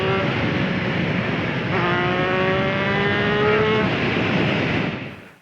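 A derestricted Triumph Street Triple S 660 three-cylinder motorcycle engine revs hard and steady, its pitch climbing into a loud, sustained roar that holds close and then cuts off at the end.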